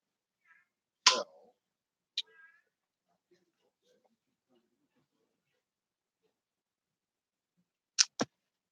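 A house cat meows in a quiet room, two short sharp cries early on and another pair of abrupt calls near the end, separated by long stretches of near silence.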